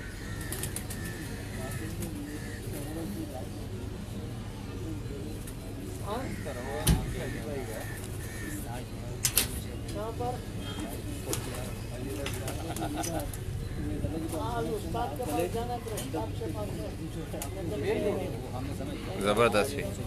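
Pigeons on a rooftop cooing intermittently, with occasional wing flaps and a few sharp knocks, under nearly continuous conversation between men.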